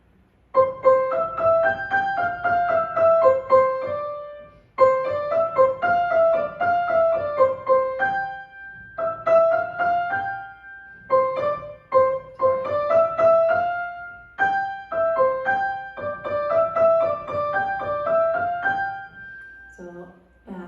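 Solo piano plays the student's part of a Brazilian maxixe etude, a bright, bouncy melody in short phrases with brief pauses between them, clear and close with no talking.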